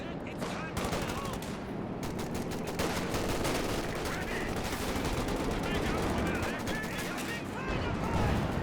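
An artillery barrage in Company of Heroes 2, with dense overlapping gunfire and explosions crackling continuously under excited play-by-play commentary.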